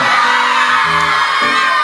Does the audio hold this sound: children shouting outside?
yes